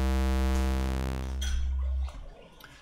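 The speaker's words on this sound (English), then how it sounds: "So this is the sound of the oscillator" A single synthesizer oscillator playing dry, a steady buzzy harmonic tone that holds loud for about two seconds and then cuts off, leaving faint room noise.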